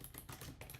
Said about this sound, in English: I'm just typing this in the worst possible way.